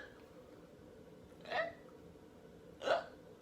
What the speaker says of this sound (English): Oh no, I have the hiccups.